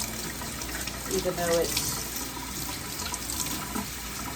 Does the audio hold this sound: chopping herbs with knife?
no